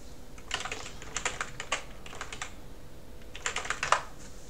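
Rapid clattering keystrokes on a computer keyboard, QWERTY or AZERTY layout, in two bursts separated by a short pause, close and fairly quiet with no voices.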